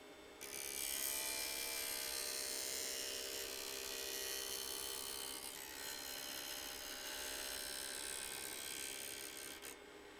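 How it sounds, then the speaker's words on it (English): A woodworking plane blade has its bevel ground, a continuous, fairly faint abrasive rasping hiss that holds steady for about ten seconds with a brief dip around the middle, close and without talk. "trace the profile you want and grind to that line. Grind the bevel to about 35 degrees."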